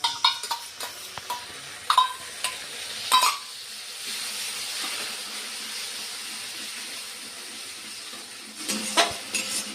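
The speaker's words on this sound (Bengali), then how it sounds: "এর মধ্যে আমি এখন এই দইটা আস্তে করে ঢেলে দেবো।" Curd poured slowly into a frying masala: a steady soft sizzle and hiss runs throughout, with a few brief clinks and stirring knocks near the start and end.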